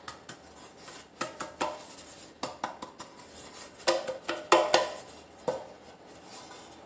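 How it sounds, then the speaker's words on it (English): Greased metal loaf pans for cinnamon swirl banana nut bread clatter and clink as they are handled and set aside on a kitchen counter, a string of sharp close knocks and scrapes at irregular intervals. "So we got our 2 coated pans. We're just going to put these to the side."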